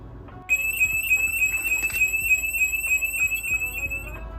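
A SimpliSafe home security system alarm, installed on a Nordhavn 43 trawler, kicks in abruptly and blares continuously, with piercing high tones and rapid pulsing beeps.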